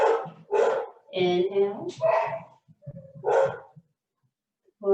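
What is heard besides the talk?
dogs barking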